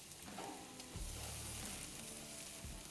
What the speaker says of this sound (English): start searing for that beautiful Maillard effect.